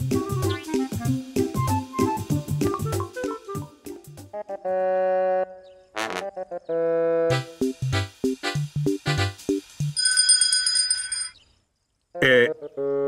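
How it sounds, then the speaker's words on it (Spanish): A bell rings in a Pocoyo cartoon among bright, plinking cartoon music and sound effects, with a burst of high rapid ringing near the end. "¿Eso que suena no es una campana?"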